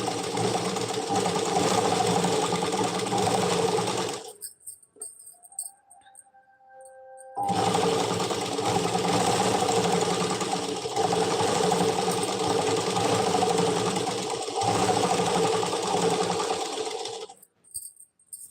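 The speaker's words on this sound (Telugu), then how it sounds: "అలాగే స్టిచ్ చేసుకుంటూ ఉండాలి" A sewing machine stitches a Punjabi-style dress pyjama, running in two long steady bursts with a short quiet pause in the middle and a faint tone during the break; close and fairly loud, no talking.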